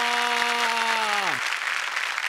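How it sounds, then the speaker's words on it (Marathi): A studio audience at a comedy show breaks into loud, sustained applause for a magic trick, a dense wash of clapping that starts under a falling held musical tone which then cuts off. "पप्पांनी जी जादू केली त्यासाठी जोरदार टाळ्या पप्पांना"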